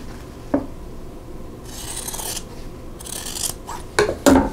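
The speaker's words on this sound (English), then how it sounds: "now I want to trim the outer corners off, leaving a quarter inch seam allowance" Scissors snip through quilting fabric, trimming outer corners for a Christmas star table runner, with several close crisp cuts and rustling of cloth between them.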